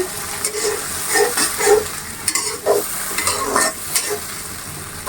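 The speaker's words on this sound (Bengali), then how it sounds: "এখন এতে দিয়ে দিব চিংড়ি মাছ মাংস দিয়ে আমি আরও কিছুক্ষণ কষিয়ে নিব" Prawns stir-fried with spice paste in a pan, loud close sizzling and frying with repeated scraping stirs of a utensil in an irregular rhythm.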